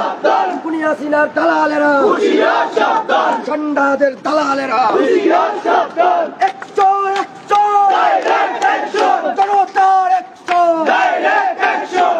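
Night street protest in Sylhet's Chowhatta area, a large crowd of demonstrators loudly shouting slogans in rhythmic, repeated bursts, dense and close throughout.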